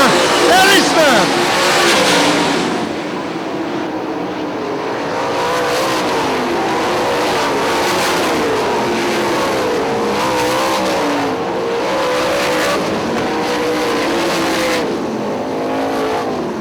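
Sprint cars race around Hartford Speedway Park, a dense roaring engine drone with swelling passes and revving, loud throughout, while an announcer talks over the noise.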